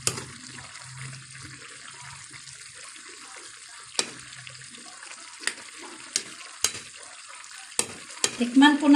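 Chayote and beans with a pork cube are stirred in a pan, giving a soft, low sizzle broken by sharp scrapes and clinks of the spoon, with a burst of louder stirring and clatter at the end.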